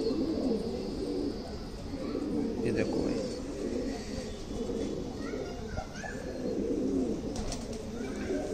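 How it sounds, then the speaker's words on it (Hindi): An old Guldaar-breed pigeon coos in soft repeated throaty rolls close by, while someone talks over it and children's voices and light chirps sit faintly in the background. "उम्रदार कबूतर है भाई।"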